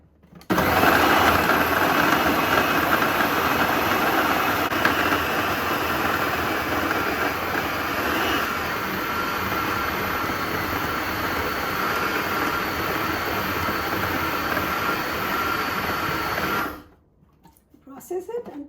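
Food processor churning chhena mixed with a little semolina into a dough, a loud steady whirring drone that runs continuously for most of the time and then cuts off near the end.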